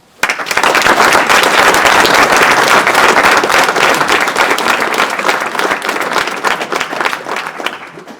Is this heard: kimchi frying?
no